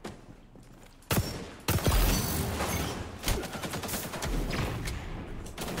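Desert Eagle pistol gunfire in the shooter XDefiant: sharp, loud shots, two standing out early, followed by a busy stretch of repeated gunfire and match noise.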